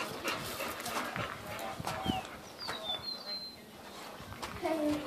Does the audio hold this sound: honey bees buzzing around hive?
no